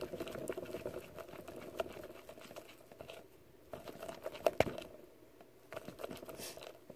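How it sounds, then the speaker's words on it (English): Glue and shaving cream being mixed together for homemade slime, giving a faint, steady wet crinkling and squishing patter with a few sharper crackles, close and quiet, with no voices. "Then add the same amount of glue and shaving cream. Then mix that together."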